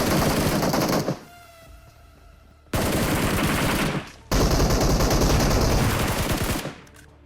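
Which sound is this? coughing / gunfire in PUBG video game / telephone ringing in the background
gunfire in PUBG video game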